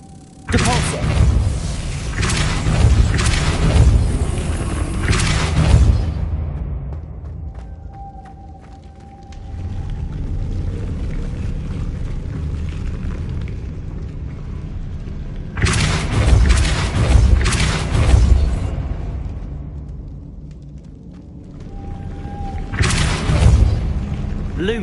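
Depulso force spell cast in Hogwarts Legacy on PS5, heard as two long, loud booming blasts with rumbling tails, separated by a quieter stretch with a faint humming tone.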